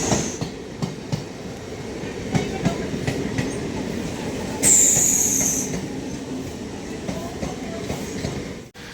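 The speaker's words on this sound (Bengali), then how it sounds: "লালগোলা শিয়ালদা ট্রেন" A Lalgola–Sealdah local train rumbles past close by with steady clattering wheels and a sharp high wheel squeal partway through, loud and continuous with no talking.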